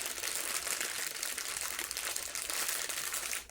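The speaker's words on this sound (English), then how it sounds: "Crinkling." Close, soft crinkling of packaging for a LEGO Brick Headz Darth Vader set, a continuous bright rustle sustained throughout at a gentle ASMR level.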